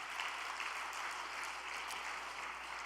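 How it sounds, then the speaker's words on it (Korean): A congregation at a prayer gathering claps in a steady, even wash of applause, distant and uniform for a few seconds with no individual voices standing out. "큰 박수를 부탁드리겠습니다."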